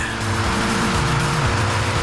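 Car speeding in a police chase on a dirt road at an East Texas ranch, engine roaring steadily with tire squeal and skidding noise, close and loud throughout.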